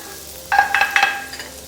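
Minced garlic sizzling in a pan with a little chili oil for a blue crab risotto, a quiet start followed by several close, bright bursts of frying and stirring, no talk.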